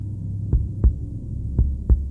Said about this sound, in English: heartbeat pulsing